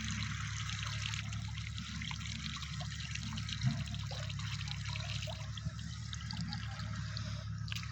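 Steady irrigation water trickles and flows continuously into a farm field, a soft constant gurgle with occasional small splashes, no voices.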